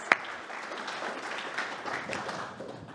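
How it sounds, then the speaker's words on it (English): A small gathering at a workplace meeting claps, the applause fairly quiet and close, opening with one sharper clap and then settling into a soft, even patter. "Let's give her a round of applause."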